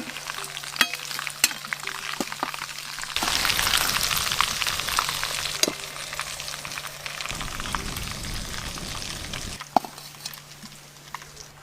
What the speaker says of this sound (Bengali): মাংসগুলো বেশ ভালো করে ভাজা ভাজা করে নিয়েছি। এবার তেল থেকে ছেঁকে তুলে নেব।